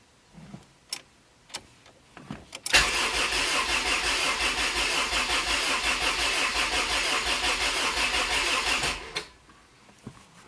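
Neglected, rust-damaged Honda CR-V engine cranking without starting: a few clicks, then about six seconds of steady rhythmic starter churning that stops abruptly, close and alone.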